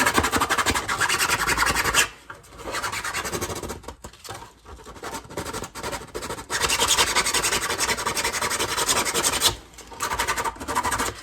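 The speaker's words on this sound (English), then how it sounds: "don't have to do too much sanding" Steady, rough rasping of sandpaper scrubbing a hard plastic surface, in long continuous strokes with brief pauses, close up and loud.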